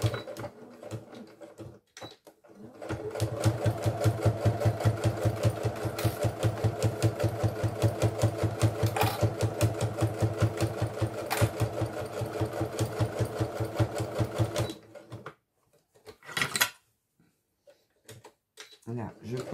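A domestic sewing machine stitches a fabric fanny pack in a long, fast run of rapid needle ticks, close and loud, then stops with a few short bursts and handling noises as someone talks.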